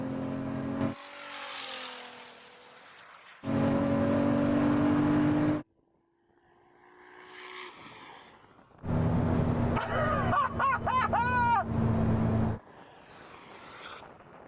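A 3000 hp SUV accelerates hard in a drag race against a Ferrari SF90, its engine roaring in loud bursts that rise in pitch through the gears, broken by short drops and a quieter whining stretch between pulls.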